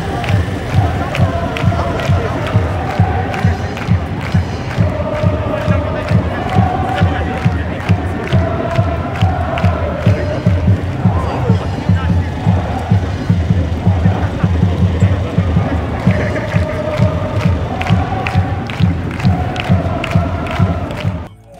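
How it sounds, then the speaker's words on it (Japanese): A large crowd of Kawasaki Frontale supporters chants and cheers in a steady rhythm at the stadium as the team bus arrives, loud rhythmic shouts and claps repeating throughout, with scattered voices mixed in. "もうたくさんのスポーターの熱い声援を聞くことができます"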